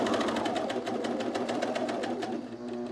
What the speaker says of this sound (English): So now my blade can't cut the pant, but I can keep serging there.